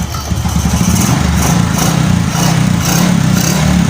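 A motorcycle engine runs steadily and loudly up close on a carburetor under test, with no air cleaner fitted, holding a rough, even idle throughout.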